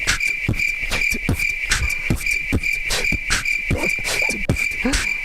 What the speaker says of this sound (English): if you want the cricket beatbox